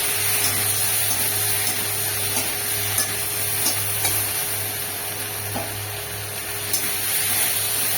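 Pre-fried potatoes and pointed gourd going into hot spices in a pan for a low-oil prawn and pointed gourd dish, sizzling steadily with faint stirring scrapes and a constant low hum underneath.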